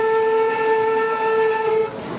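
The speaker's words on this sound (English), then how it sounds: "And we got the whistle here." The whistle of the C&O Allegheny 1601 locomotive sounds as one loud, steady, multi-toned blast that holds for about two seconds and then cuts off.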